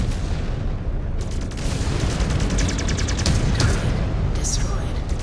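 MechWarrior Clans combat with long-range missile launches and weapon fire: a dense, continuous roar of rapid launches, booms and rattling shots, loud and sustained throughout with voices mixed in.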